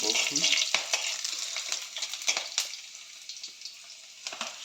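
Boiled pork being fried and stirred in a pan, a steady bright sizzle with scraping stir strokes throughout, close and fairly loud, no talking.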